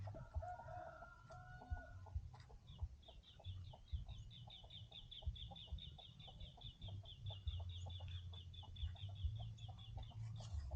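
Chickens around a bamboo chicken coop in a rice-field setting cluck in rapid repeated calls, with a rooster-like cry early on, over steady low outdoor rumble.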